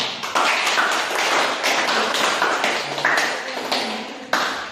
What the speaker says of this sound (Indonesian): Beri aplaus dulu untuk semua